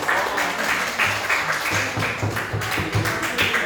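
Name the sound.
applause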